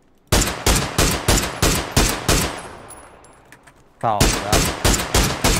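Rapid bursts of automatic gunfire in a shooter video game form two loud, evenly spaced volleys with a fading gap between them. A brief voice shouts over them.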